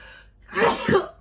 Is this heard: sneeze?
yes